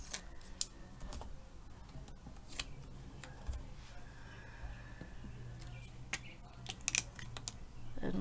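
Masking tape peeled carefully off a surface, with scattered sharp ticks and crackling pulls, close and irregular over a faint room hum.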